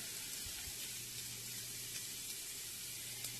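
Onion sautéing in a pan, a soft steady sizzle running evenly throughout with no voices, faint and even in level.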